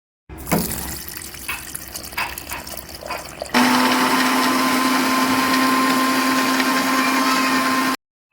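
Water splashes into a mixer grinder jar holding banana leaves and sugar. The electric mixer then starts abruptly with a loud, steady whirring hum that blends the banana leaf juice for about four seconds before cutting off sharply.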